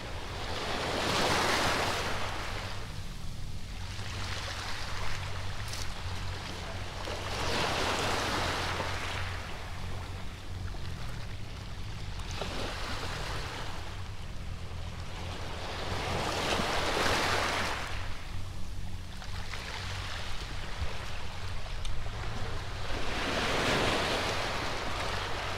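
Sea waves at a Philippine beach roll in and wash out in slow regular surges every few seconds, loud and close, with wind buffeting the microphone and no voices.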